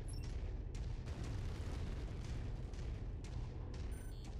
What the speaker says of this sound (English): Let's see how much we do with just one of these missiles.